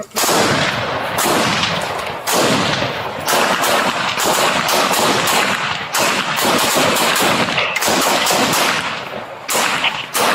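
Rapid, dense gunfire from a police shootout after a domestic call, loud and close, with bursts of overlapping shots and cracks continuing almost without pause for the whole stretch.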